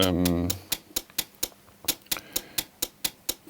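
Sharp, regular clicky ticks repeat about three times a second after a brief tonal note at the start, a dry hi-hat pattern made from a noise sound.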